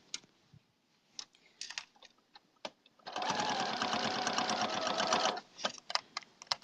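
Sewing machine stitching just inside the binding along the edge of a log cabin quilt: a close, rapid whirring run of stitches for about two seconds, framed by scattered clicks and handling noises before and after.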